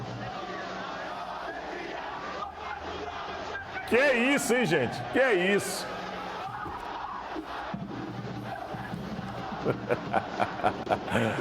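CRB supporters gather at an airport to welcome their team's players, a crowd of fans chanting and shouting, with a loud burst of sung chanting midway and rhythmic rising clapping or drumming near the end, under a nearby commentator talking.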